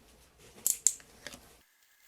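Scissors trimming heat transfer vinyl for a wood Halloween ornament, a few quiet, close snips and crisp cuts spaced across a second, then silence.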